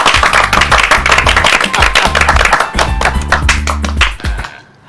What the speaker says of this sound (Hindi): अरे तो ताली बजाओ भाई।